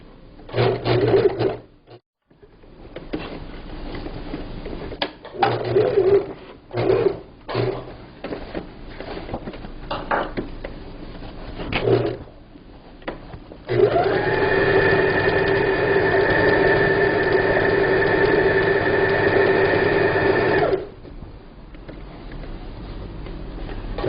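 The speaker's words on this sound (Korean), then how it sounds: "돌리면서 박음질을 해보세요" A sewing machine stitches a table cover in short bursts of whirring, then runs in one long steady stretch before stopping, close and clear with no talk.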